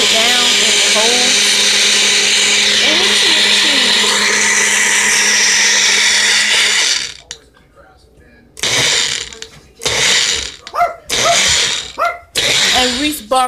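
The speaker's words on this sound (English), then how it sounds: "It's called a magic bullet." A Magic Bullet blender whirs loudly and steadily for about seven seconds while blending a banana protein shake, then stops, followed by voices talking and a dog barking.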